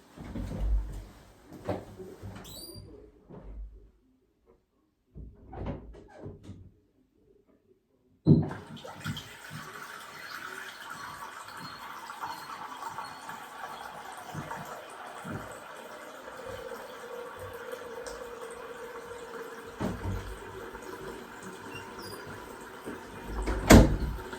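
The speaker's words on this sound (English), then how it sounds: "the cistern is filling up through the float valve. That's filling quite nicely." A few faint clunks, then a steady rushing hiss of water as a toilet cistern fills through its float valve, continuous and fairly close.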